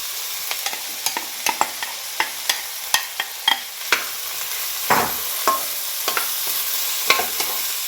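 Onions and potato pieces are sautéed for a Kerala-style potato fry, with a soft steady sizzle broken by frequent sharp clicks and taps of a spatula stirring against the pan, close and clear.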